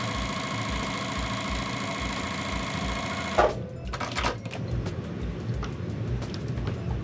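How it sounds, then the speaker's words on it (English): A sewing machine runs steadily, stitching strips of quilt fabric together with a fast, even mechanical whir. Partway through it stops abruptly, and a few handling knocks and rustles follow. "I'm gonna go ahead and sew on my 3rd strip now"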